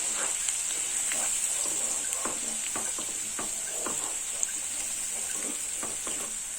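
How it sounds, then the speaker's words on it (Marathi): Masala paste stirred into chicken gravy in a pan, a soft steady sizzle with scraping strokes of the spoon and a constant high hiss underneath. "इथे मी तयार केलेली पेस्ट टाकून घेणार आहे। त्यानंतर व्यवस्थित असं हलवून घ्यायचं।"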